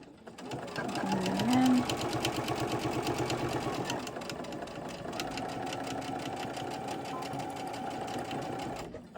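A sewing machine runs steadily while stitching through thick fabric, its rapid mechanical chatter continuous and close, with a brief strained surge early on.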